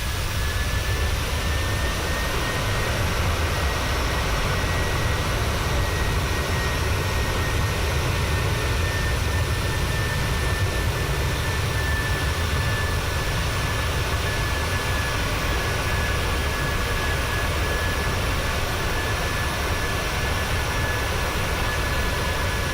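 Aircraft engine noise in Microsoft Flight Simulator 2020 during a climb near 14,000 feet roars as a steady, loud drone with a faint whine above it, unchanging throughout and with no talking.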